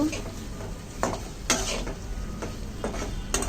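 Eggs being stirred into a frying masala for Bengali egg bhuna, a steady low sizzle broken by sharp scrapes and knocks of a spatula against the pan at irregular intervals.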